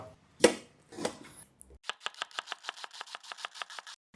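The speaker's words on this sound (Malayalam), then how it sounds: "നമ്മൾ സവാള അരിയുക" A couple of scattered knocks, then a quick steady run of about fifteen knife chops through an onion on a board, close and crisp.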